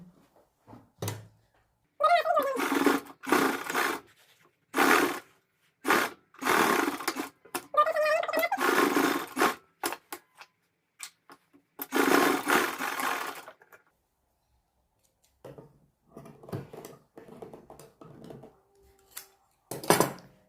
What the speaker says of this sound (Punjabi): ਇੱਥੇ ਆਪਾਂ ਸਿਲਾਈ ਲਾ ਦਾਂਗੇ ਇਸ ਤਰੀਕੇ ਨਾਲ